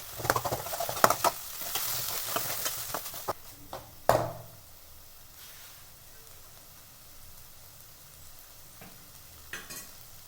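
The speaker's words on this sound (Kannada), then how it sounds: "ಬೇಯಿಸಿದಂಥ ಕಾಳು ಮತ್ತು ಸೊಪ್ಪನ್ನು ಇದರೊಳಗಡೆ ಹಾಕ್ಕೊಂಡು ಮಿಕ್ಸ್ ಮಾಡ್ಕೊತಾ ಇದ್ದೀನಿ." Boiled legumes and greens are stirred into ground sambar masala in a pan. Soft patter, sizzle and scraping stir strokes come first, then thin out to quieter, sparse clinks.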